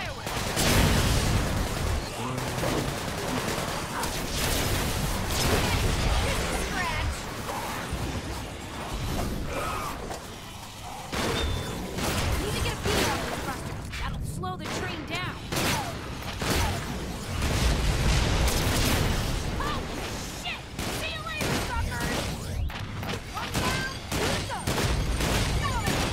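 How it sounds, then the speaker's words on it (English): Fireworks bursting in the Sunset Overdrive video game amid chaotic game action: dense crackling pops and booms in rapid succession throughout, with mechanical clatter and a voice speaking at times. "That could create a nice firework."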